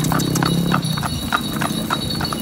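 Horse hooves clip-clop steadily on a road as a horse-drawn cart (sado) heads toward Gundaling in Berastagi, a regular close rhythm of hoofbeats with no talk over it.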